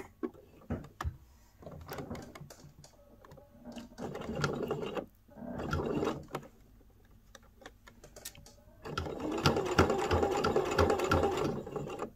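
A sewing machine stitches a lined, zipped fabric pouch in several short bursts with pauses between, the whirring growing longer and steadier toward the end, close and moderately loud.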